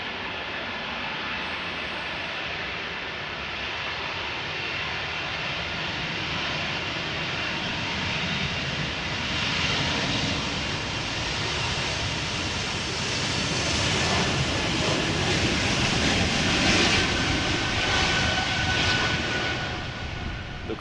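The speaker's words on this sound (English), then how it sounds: "Okay. Takeoff thrust set." A jet airliner takes off at Amsterdam Schiphol Airport in gusty crosswind, a broad continuous engine roar at takeoff thrust that slowly swells louder toward the end, heard from a distance with no talk.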